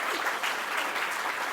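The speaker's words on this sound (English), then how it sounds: "So I'd like a round of applause for Nora." A forum audience claps steadily in a room, a dense, even round of applause that holds at moderate loudness without speech on top.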